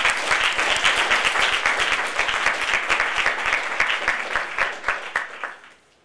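Audience applause welcoming Laurence Ralph, author of Renegade Dreams, at a university book talk: dense, steady clapping from a sizable crowd that holds for about five seconds, then thins out and fades.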